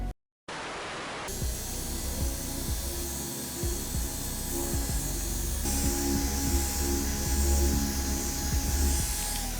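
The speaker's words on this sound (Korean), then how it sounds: "자, 이제 샌다기로 320으로 거의 다 밀었습니다." Electric sander working over a car body panel with 320-grit paper during repair of a new-model Hyundai Avante, a steady close whirring grind with rough scratchy texture running continuously after a brief silent start.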